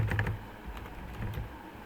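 Keys on a computer keyboard are tapped in a short, quick burst of soft, close clicks, followed by a few scattered keystrokes in a quiet room.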